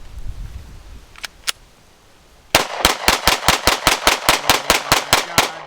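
A mud-covered Mossberg pistol in a torture test gives two faint clicks, then a rapid string of about fifteen loud, evenly spaced gunshots fired close by.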